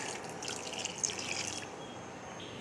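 Water poured into a pot while cooking paksiw, already holding vinegar and chili, a steady splashing, trickling pour that runs about a second and a half before easing to a quiet hiss.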